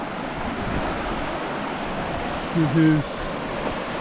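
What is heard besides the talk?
clear mountain stream water flowing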